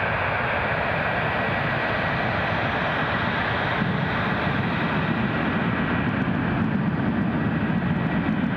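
A metro train rumbles past at close range near Newcastle International Airport, a steady broadband roar with a hissing high edge that holds through the whole stretch, no voices.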